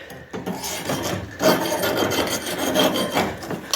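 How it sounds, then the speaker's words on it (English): A metal file rasps steadily against the cut top of a steel fork steerer on a 1950 Schwinn D-12 klunker build, a close, continuous scraping with repeated strokes and no talk. "And I'm just going to run a file in there."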